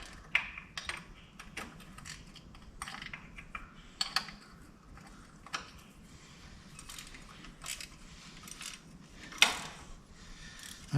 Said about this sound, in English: I really like these ratchet wrenches.